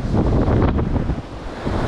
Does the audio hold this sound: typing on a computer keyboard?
no